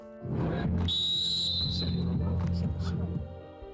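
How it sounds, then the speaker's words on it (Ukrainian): A coach's whistle starts a football match between amputee veterans, one sustained shrill blast of about two seconds over steady crowd and field noise, with voices nearby. "Свисток тренера і почали."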